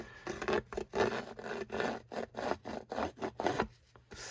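The edge of a paper card for a Christmas card is roughed up with rapid back-and-forth scraping strokes, a close, rhythmic rasping rub of about a dozen strokes with brief pauses.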